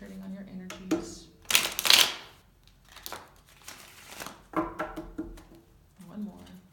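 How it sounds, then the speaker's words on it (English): Tarot cards are shuffled by hand in several quick riffling bursts with soft slaps and pauses between, close and moderately quiet. "I've pre-shuffled, and now I'll just do a few more."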